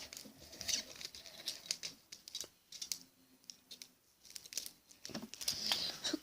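Scissors snipping through damaged VHS tape, a few quick crisp cuts with crinkling plastic tape handling in between, close and fairly quiet.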